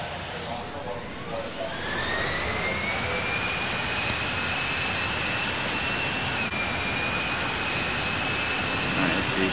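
Steady roar of aircraft jet engines swelling after about two seconds, with a rising whine, as planes come in to land in the flight simulator game Infinite Flight; the sound is loud and continuous with no voices.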